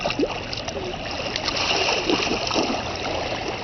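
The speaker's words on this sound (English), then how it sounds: "Keep splashing, Caleb." Steady splashing and sloshing of water at a beach, close and continuous, with faint background noise throughout.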